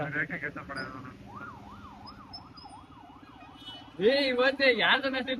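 An ambulance siren wails in a rising and falling pattern, nearby, with a loud voice talking over it at the start and a louder siren burst near the end.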